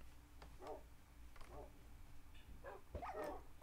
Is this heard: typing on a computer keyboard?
no